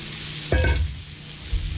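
A short scraping stir of rice in a paella pan lands over a steady sizzle of frying, with a second brief scrape near the end and no talking.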